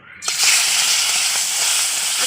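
Leftover rohu fish oil sizzles and hisses loudly in a hot pan, the frying noise bursting in suddenly and holding as a steady crackling hiss, with no talking.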